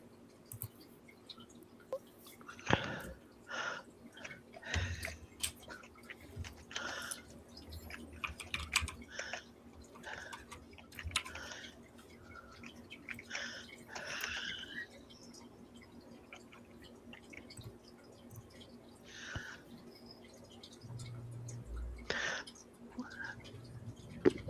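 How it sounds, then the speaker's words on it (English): Computer keyboard typing in irregular bursts of quiet clicky keystrokes over a faint steady hum, with soft whispery talk at times. "Somebody else's keyboard's making noise, not mine."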